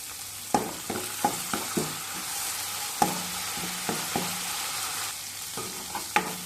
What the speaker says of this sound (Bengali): টমাটোটা একটু দানা দানা আছে সেটা গলে যাওয়ার জন্য অল্প জল দিলাম